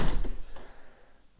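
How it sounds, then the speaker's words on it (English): An interior door in a new-build house is pushed shut and snags against the frame at the top, giving a close, dull thunk followed by a brief rattle that fades quickly. "You can see it gets caught at the top there when you close the door"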